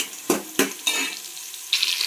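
Four green chillies fry in a pan for a vegetable biryani, a soft oil sizzle broken by a few scraping stirs of a utensil against the pan.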